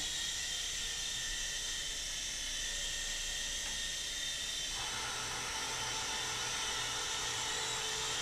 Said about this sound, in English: It's such a light chopper, too, that you don't need a lot of throttle to get it up there high